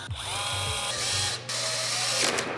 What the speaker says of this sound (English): Okay, so I'm gonna drill the pilot holes here.